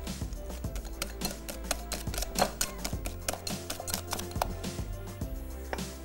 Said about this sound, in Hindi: पहले मैदा और अंडे 2 अदद बड़ी अच्छी तरीके से मिक्स कर लीजिएगा ताकि इसकी गुठलियां ना बने